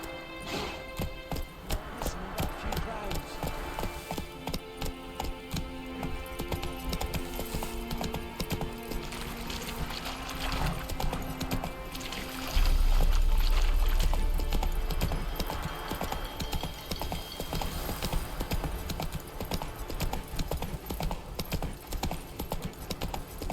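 Roach the horse gallops in The Witcher 3, a modded PC game: steady clip-clop of hooves runs the whole way, loud and close over a dense music and ambient bed, with a brief heavier thump near the middle.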